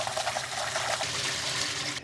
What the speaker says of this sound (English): Turn on our cold tap water